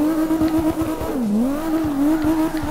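A BMW E34 M5 with a 900 HP engine drifting in the CarX Drift Racing Online video game, its engine holding a steady buzzing tone that dips and rises with the slide while the tires squeal, loud and close.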